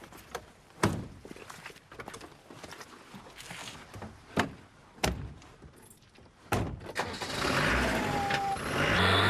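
Car door slams then an engine starts and runs steadily as a family drives off from a rural farm in 1990s Yorkshire, several sharp thuds and knocks before a rising, continuous engine noise at the end.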